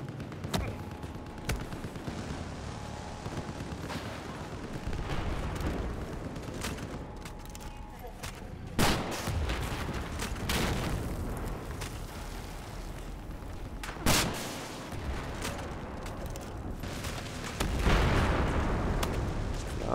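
Battlefield 4 multiplayer combat on the Lancang Dam map: repeated gunfire bursts and heavy explosion booms, some sharp and close, others rumbling, layered over a constant battle din while someone talks throughout.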